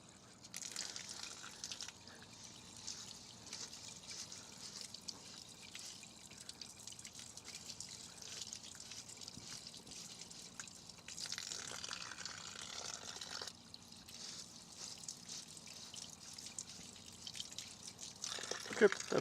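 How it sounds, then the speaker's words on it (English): Water is run through pipes at a construction site after a concrete pour, making a steady hissing, splashing flow for about twenty seconds that swells louder past the midpoint, with faint talk underneath. "I'll just run some water through this way."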